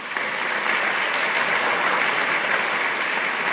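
Steady, dense audience applause after a morning keynote at a teachers' conference, a continuous wash of clapping from a large crowd with no voices on top.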